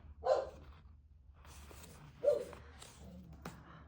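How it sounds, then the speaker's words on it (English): Household dogs let out a few barks, one burst near the start and another midway, with faint background noise between. "My dogs are obnoxious."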